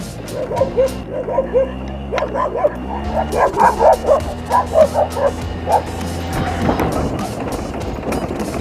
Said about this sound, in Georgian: ძაღლები დაგძევენ, არ ვიცი რა უნდათ.